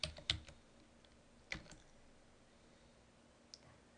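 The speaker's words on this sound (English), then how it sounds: "we're going to type partimage" Someone types a command on a computer keyboard, a few sharp close key clicks scattered with pauses, in a quiet room with no talk.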